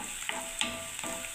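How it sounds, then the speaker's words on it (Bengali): Onions frying in a pan while being stirred, with a steady soft sizzle and a few scraping strokes of a spatula, close and fairly quiet, no talking. "পেঁয়াজটাকে ভাজছি, এখন একটু লাল করে ভেজে"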